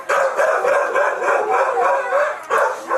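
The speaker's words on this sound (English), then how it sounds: "Got some guard dogs in" Guard dogs bark and yelp loudly and continuously at a house, the overlapping barks mixed with howl-like cries in a fast, uneven rhythm, close to the listener.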